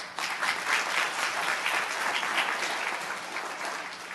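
An audience at an Africa business summit breaks into sustained applause, dense overlapping clapping holding at an even, fairly loud level for several seconds before easing slightly at the end.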